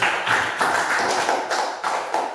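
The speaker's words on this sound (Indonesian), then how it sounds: "Mari kita beri tepuk tangan untuk kita semua." A class of schoolchildren applauds together in a classroom, a dense, steady patter of many hands clapping at close range with rhythmic surges throughout.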